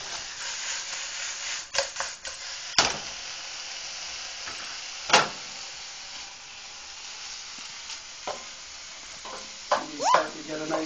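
Meat for Christmas chili sears in a pan with a steady low sizzle, broken by several sharp scrapes and stirring clatters; faint talk comes through at times.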